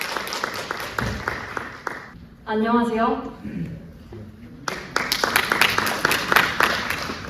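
An audience at a university civil engineering student symposium claps in brisk bursts before and after a stretch where a voice speaks over a microphone, the applause close and crisp.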